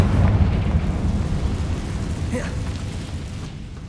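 A Confringo blasting-spell explosion in Hogwarts Legacy on PC, a rumbling burst of game sound effects that is loudest at the start and then decays into a sustained low roar, with a brief crackle partway through.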